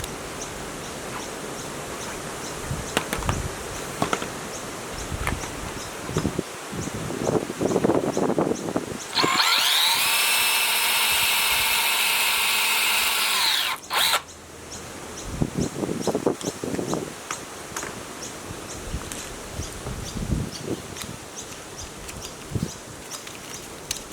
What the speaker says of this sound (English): you just use a drill, that'll clean it out